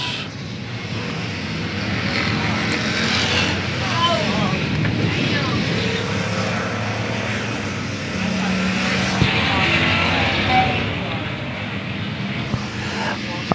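Race cars lapping a speedway oval at South Texas Speedway, engines droning steadily at a distance with a continuous roar that rises and falls as cars pass, mixed with crowd and announcer ambience.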